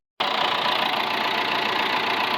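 A tractor engine idles steadily and close by in weedy ground, a loud, even mechanical rumble that starts abruptly and holds without change, with no one talking.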